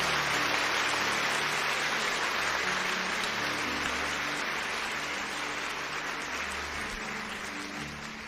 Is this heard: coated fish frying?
no